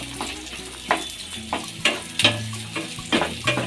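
Onions frying in a pan for boiled egg curry, a soft continuous sizzle punctuated by several sharper scraping stirs at irregular intervals.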